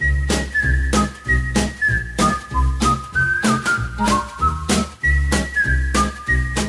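A bright, bouncy TV theme tune from Perfect Strangers is whistled clearly up close, with a steady rhythmic accompaniment thumping beneath the melody.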